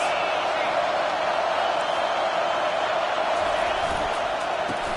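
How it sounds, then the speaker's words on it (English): Steady stadium crowd roar fills a college football video game matchup between Texas and LSU, a dense, continuous wash of distant voices that never breaks, with a commentator's voice over the top. "This crowd trying to make life miserable for this offense."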